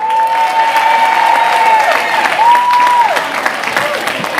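A crowd at an outdoor Dominican heritage reception on a lawn applauds special guests with steady, dense clapping and scattered cheers, a sustained whistle-like tone rising above it.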